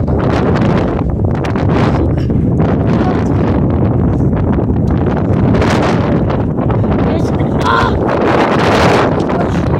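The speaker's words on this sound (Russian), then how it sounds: "Ветер реально зачетный." Strong gusts battering a handheld microphone outdoors, a loud continuous low roar and rumble with fluctuating bursts, no speech audible over it.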